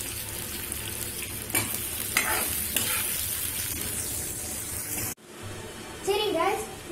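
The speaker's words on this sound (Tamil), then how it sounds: "இப்போ நல்லா வதக்குங்க." Onions with curry leaves and salt sautéing in a pan, a steady close sizzle with stirring scrapes throughout and a brief pause near the end, while a voice talks over it.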